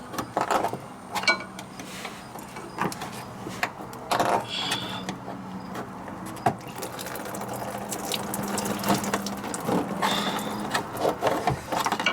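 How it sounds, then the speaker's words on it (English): A screwdriver works loose a radiator hose clamp on a leaking 2012 Ford E-350, making scattered metallic clicks, ratchety taps and scrapes of varying loudness over a low, steady background hum. "I'm going to use a screwdriver. I'm going to put the clamp out."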